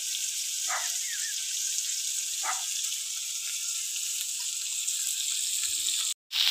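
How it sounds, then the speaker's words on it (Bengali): Mrigal fish frying in hot oil, a steady bright sizzle held throughout with a few faint clinks, cut by a brief gap near the end. "মাছটা ভাজা হয়ে গেছে, আমি এবার তুলে নেব।"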